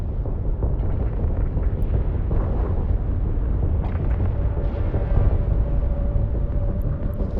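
Ship guns firing in EVE Online space combat, a loud, steady rumbling roar with no clearly separated shots.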